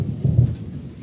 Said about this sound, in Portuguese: Ó, o trovão mais forte agora,